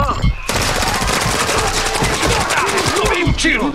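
Rapid automatic gunfire in the video game Call of Duty Warzone 2.0, loud and dense bursts of shots over several seconds, with excited voices talking over it.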